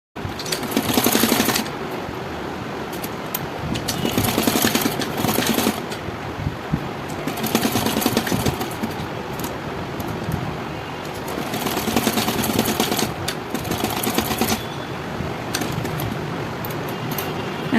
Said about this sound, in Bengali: এবার আমি এটাকে সেলাই করে নিচ্ছি।